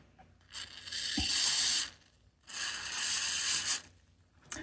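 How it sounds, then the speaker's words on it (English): Two bursts of hissing spray from a spray can, lightly pressed to spatter, each about a second and a half long, separated by a short pause, with a third brief spurt at the end. "I'm just slightly spraying the can so I can get splatters and not spray"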